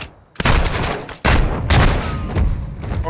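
Loud, close shotgun blasts in the Call of Duty Modern Warfare II campaign, three heavy booming discharges, each followed by a rumbling tail, with no voices.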